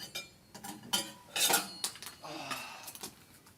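A spatula clatters and scrapes against dishware inside a microwave in a series of irregular close metallic clinks and knocks, with one louder rattling cluster midway.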